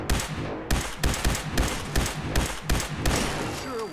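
Rapid bursts of gunfire in the video game Fallout 4, during the Nuka-World DLC's Galactic Zone, firing in regular loud volleys roughly every half second with no talk over them.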